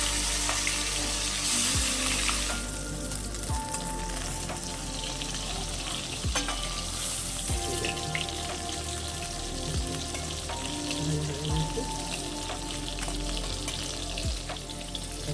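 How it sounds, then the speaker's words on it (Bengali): Lata and koi fish fry in hot oil in a pan, a loud continuous crackling sizzle close up with a few occasional clinks and stirs. "আর আমি তেল দিয়ে দিচ্ছি মাছটা ভাজার জন্য মাছের তেলটা গরম হয়ে গেছে দিয়ে দিলাম আমি ওই মাছ ল্যাটা মাছ আর দিয়ে দিলাম কই মাছ"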